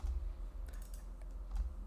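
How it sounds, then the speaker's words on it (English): Rapid, irregular clicks of typing on a computer keyboard, fairly quiet and close, with a steady low hum underneath and no talking. "if we start typing,"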